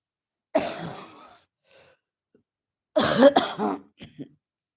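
Two bouts of harsh coughing close by from a person with a persistent cough, the second longer and rougher, separated by a quiet pause.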